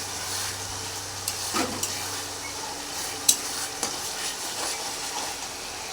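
Masala paste of onion, ginger and garlic with chili powder frying in a pan, a quiet continuous sizzle with a few clinks and scrapes of stirring, no voices.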